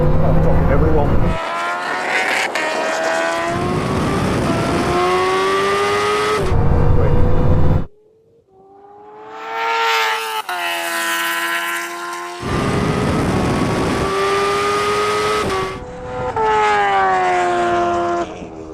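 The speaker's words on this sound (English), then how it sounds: "The bikes explode off the line." A Bugatti Chiron Super Sport, a Kawasaki H2R and a Ducati SP2 in a quarter-mile drag race: loud, high engines winding up through rising gear runs, a brief quieter gap in the middle, then more hard acceleration.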